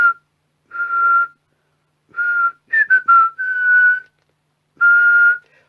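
A person whistles into a 1990 Midland 77-1165 CB radio to test FM deviation, giving a series of short steady whistled tones with brief rising slides, clean and close.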